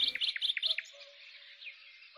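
Birds in trees give a rapid run of bright, close chirps, then thinner, fainter calls trail off against a quiet background.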